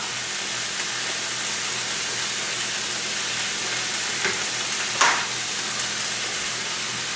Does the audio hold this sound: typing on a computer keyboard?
no